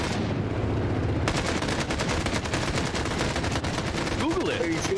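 Dense, rapid automatic gunfire rattles almost nonstop through an Escape from Tarkov firefight, loud and steady for several seconds. A faint voice briefly comes through near the end.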